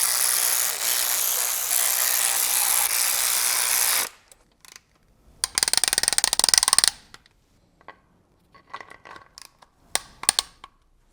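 A ratchet drives oil pan bolts into a BMW E70 X5 V8 SUV, heard as short close bursts of clicking after a steady noisy stretch, with pauses between the turns.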